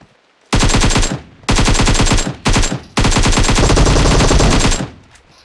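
Loud, close automatic gunfire from PUBG Mobile, a battle royale shooter, in four sustained bursts separated by brief pauses, the last burst longest and densest.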